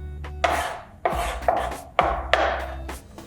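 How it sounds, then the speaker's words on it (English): Flat side of a knife slamming down on garlic cloves on a wooden cutting board while making gumbo, four or five sharp close thuds, each followed by a brief rubbing scrape. "Use this flat side of the knife and just give it a wham"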